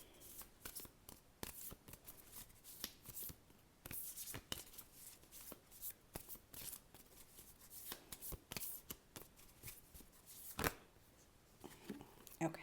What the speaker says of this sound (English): this card it's one of those matte decks, so it's always really difficult to shuffle